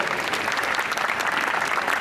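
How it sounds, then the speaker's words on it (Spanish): Strong, sustained applause from an audience honoring a doctor after a talk, dense and even throughout without pause. "nuevamente un fuerte aplauso para la doctora Catalina"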